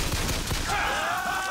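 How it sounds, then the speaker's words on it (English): Shotgun blasts in the video game Bioshock Infinite, a rapid cluster of loud booming shots in the opening half, followed by a ringing metallic tone as the firing stops. "I forgot how good the shotgun is."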